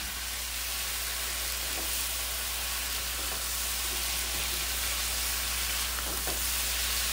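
Steak and its marinade juices sizzle in a pan as they cook down, giving a steady, broad hiss of frying with faint occasional pops and no voices.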